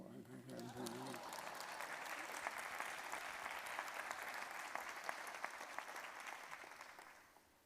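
An audience at a fiscal summit opening applauds after a brief spoken moment, a full, even clapping that tapers off quietly at the close.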